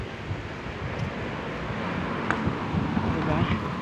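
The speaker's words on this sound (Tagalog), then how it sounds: "Pero yung hangin, medyo malakas." Strong wind buffets the microphone outdoors in Barcelona in a steady rushing roar with low gusty rumbles, a voice faintly present beneath it.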